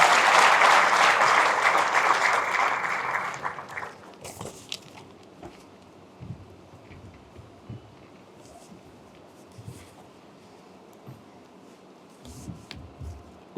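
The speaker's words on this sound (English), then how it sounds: "Gentlemen, can we have a huge round of applause?" An audience applauds loudly at a graduation ceremony for about four seconds. The clapping then fades to scattered rustles and faint taps in the hall.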